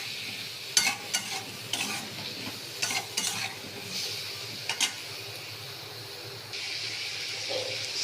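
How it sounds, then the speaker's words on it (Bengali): A spice paste of chilli, turmeric and cumin with salt fries in a pan with steady hissing sizzle, broken by several sharp scraping stirs of a spoon in the first five seconds, then a brighter, louder hiss toward the end. "দিয়ে এবার ভালো করে মশলাটা কষিয়ে নেব।"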